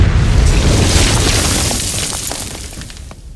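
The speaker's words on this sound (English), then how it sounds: "And of course, we've got cool explosions," A loud, deep explosion in the tactical shooter video game Ground Branch booms up close, then its rumbling, crackling debris tail slowly fades away.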